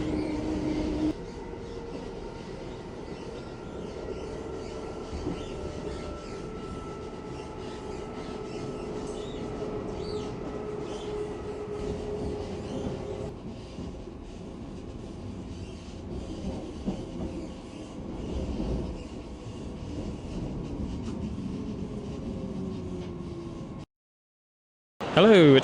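A train rumbles and hisses steadily at Wiesbaden Main Station, with faint rail clatter and squeal, then falls briefly silent before a sudden loud burst at the end.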